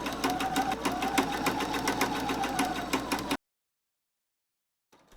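A sewing machine stitches an evening dress's main fabric in a steady, rapid mechanical chatter for about three seconds, close and loud, then stops abruptly into silence, with a faint rustle at the very end.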